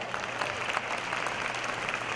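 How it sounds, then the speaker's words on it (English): Continuous crowd applause at a university fall convocation ceremony, even and moderately loud with many hands clapping at once over a low background hum. "Give him a round of applause."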